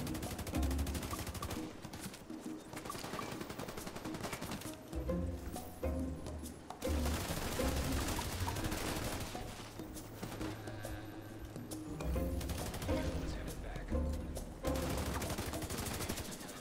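Near-constant bursts of FAL rifle fire in a shooter video game, with rapid volleys stacking into dense fusillade-like stretches and a few brief lulls, loud throughout with game effects and music layered underneath.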